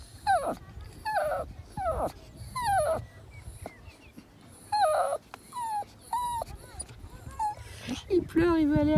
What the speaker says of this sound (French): Il pleure, il veut aller à l'eau.